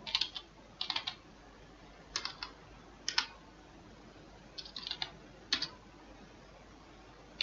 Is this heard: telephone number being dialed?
no